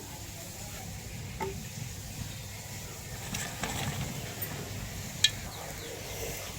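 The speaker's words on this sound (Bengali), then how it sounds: "এবার আমি তেলটা ঢেলে দিলাম" Oil heating in a wok over a clay village stove makes a low, even sizzle that runs throughout, with a few faint clicks and one sharp tap near the end; no talking.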